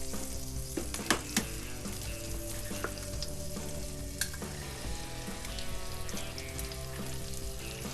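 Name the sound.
eggs frying over easy in a cast iron pan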